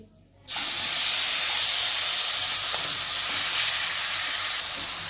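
Marinated chicken dropped into a hot pan, bursting into a loud, close, sustained sizzle right after a brief quiet start, the hiss staying strong and steady throughout.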